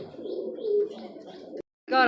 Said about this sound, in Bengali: এত সুন্দর একটা লক্ষ্মী কবুতর